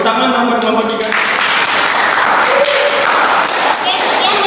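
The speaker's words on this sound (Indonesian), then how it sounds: "Tepuk tangan nomor kelompok 3." Applause from a classroom audience of student teachers greeting a presentation group, steady broadband clapping throughout, with some voices mixed in.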